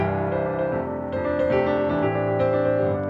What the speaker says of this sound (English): you can make your accompaniment a lot more interesting by creating driving sounds like this